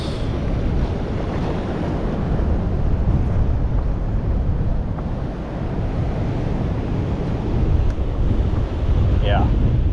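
Ocean waves surge and break steadily on a beach at Port Edward during shore fishing, a continuous loud roar of surf with wind buffeting the microphone throughout.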